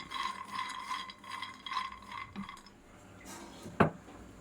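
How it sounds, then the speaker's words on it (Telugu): Peanuts being dry-roasted over a low flame in a kadai rattle and scrape steadily against the metal pan, with a sharper clank of metal near the end. "అదే కళాయిలోకి కప్పు పల్లీలు వేసి వేపుకుందాం"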